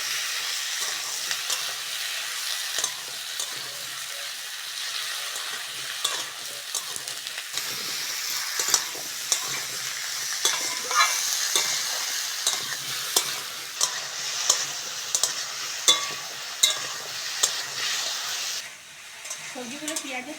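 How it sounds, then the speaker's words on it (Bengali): Chopped beans, radish and potato fry with onion, dried chilli and cumin in a hot pan, giving a bright, crackling sizzle with regular scraping stirs that grow more distinct toward the end, close-up and without speech. "সবজিগুলো পেঁয়াজের সঙ্গে ভালো করে ভেজে নিয়েছি"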